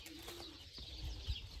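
Pet birds coo softly in a home garden: faint, low, rounded calls that surface briefly against quiet outdoor background noise.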